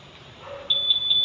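A Euro Samurai 155i motorcycle's keyless answer-back system gives a sustained high electronic beep that starts abruptly partway through and holds steady, fairly clear against a quiet background.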